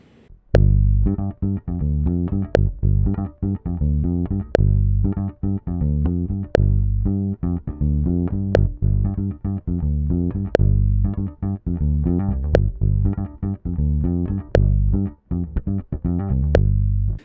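Sharp metronome clicks at a slow, regular pace sound over sustained chords. Between some clicks the gaps stretch where beats have been dropped.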